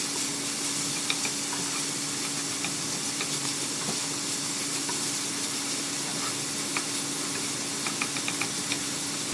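Shepherd's pie filling in a pan, made with olive oil, salt, ground pepper, Worcestershire sauce and herbs. It gives a continuous soft sizzle and hiss with scattered small clicks of stirring and a steady hum under it.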